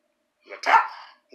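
A dog gives one short bark up close, a quick yelp followed by a fuller woof, with near silence before and after.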